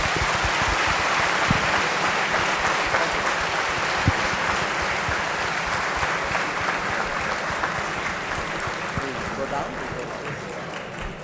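A large audience at a university global inauguration ceremony gives Dr. S. Jaishankar a warm, sustained round of applause, dense and steady, with a few sharper claps standing out, fading slightly toward the end.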